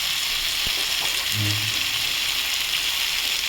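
Mustard, green chilli and ginger paste frying in a pan for a prawn and taro-stolon dish, giving a steady close hiss of sizzling oil with a brief soft stirring scrape partway through.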